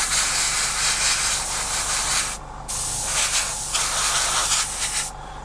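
Airbrush spraying paint onto a part of a 1/48 Tamiya Supermarine Spitfire Mk.I scale model, a close, steady hiss in two long bursts separated by a brief pause, with no talking.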